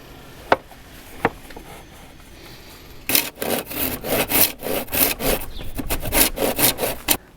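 Hand saw cutting through 38mm wooden timber to build a frame for a camper van roof fan, a steady run of rhythmic back-and-forth rasping strokes after two sharp knocks, close and fairly loud with no talk.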